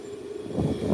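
A British airliner passes overhead on its arrival, a steady low engine roar that swells louder toward the end of the brief moment, with no voices.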